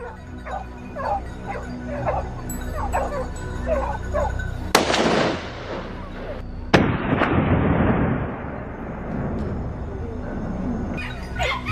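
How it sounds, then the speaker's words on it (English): Hunting dogs bark at a wild boar in a forest, short yelps repeating at first, then two loud sharp bangs with long echoing decays, more barking faintly beneath. "The hunting dogs pressured a target, their barking relentless, like the sound of a death toll."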